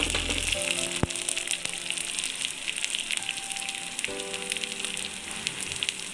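Shallots sizzle steadily as they fry in oil in a pan, a close continuous crackle with a few sharp clicks and soft background music.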